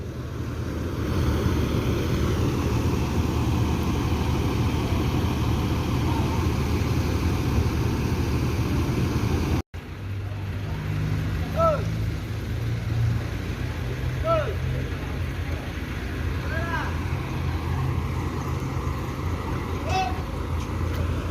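A bus arriving at Bare Solo terminal in Ranah Minang, a steady low engine rumble that fills the whole stretch. It is briefly cut partway through, and a few faint high chirps and a voice sit over it later.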